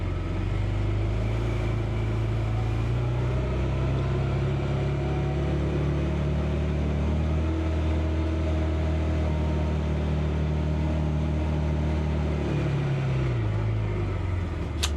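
A side-by-side UTV runs in high gear with a steady engine drone throughout, its pitch slowly rising and falling under the ride, with no talk.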